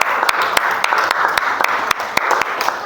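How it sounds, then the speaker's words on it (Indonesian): Children clap in a classroom during an Islamic religious education lesson, a scattered burst with sharp individual claps standing out above the steady patter, close and fairly loud. "Tepuk tangan anak-anak."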